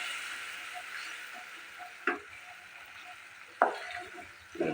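Masala for Assamese chickpea ghugni fries in a pan with a soft continuous sizzle, while a spoon scrapes and stirs it in three distinct clanks.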